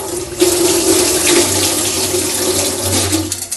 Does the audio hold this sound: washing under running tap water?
yes